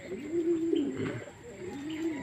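Racing pigeons coo steadily at their loft during a club training arrival, a low rolling warble repeating close by with a faint chirp or two above it and no talking.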